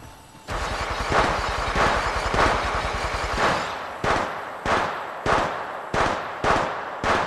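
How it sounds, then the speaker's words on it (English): Automatic gunfire in the mobile shooter Apex Legends Mobile, a long sustained rapid burst followed by a string of shorter separate bursts, loud and close with no talk. "Opening fire."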